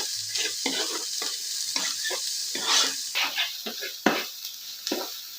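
Onions frying in oil in a pan make a steady sizzle, broken by repeated scraping and stirring strokes that come through close and clear.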